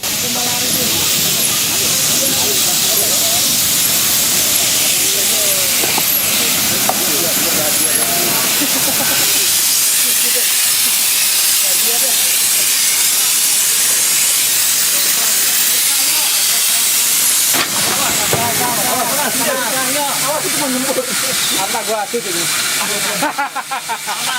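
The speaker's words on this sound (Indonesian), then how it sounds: "inilah satu-satunya perjalanan kereta wisata uap di Cepu yang saya naiki" A loud, sustained hiss of escaping steam fills the air, broken by bursts of chuffing and mechanical clatter from a nearby steam tourist locomotive in Cepu.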